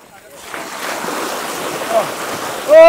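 Mountain bike rolling through a river on the Caura race trails, a steady broadband wash of splashing water and surf-like rush building through the clip, with wind noise and a sharper burst near the end.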